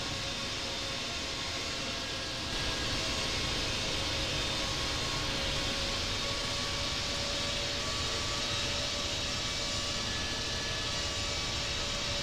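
Airliner taxiing toward the runway at Hong Kong International in the Infinite Flight simulator, a steady, loud broadband engine roar with a faint high whine that holds unchanged throughout.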